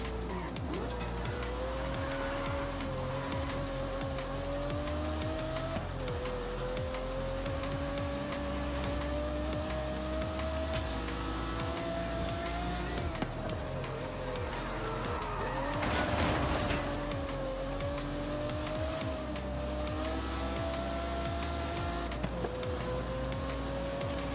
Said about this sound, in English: Just gonna make sure we downshift correct.